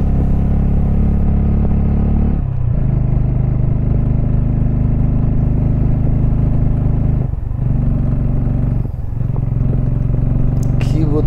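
A motorbike engine labours up the steep final road to Sajek, a loud, constant mid-pitched drone with brief dips in effort, close to the rider and with no speech.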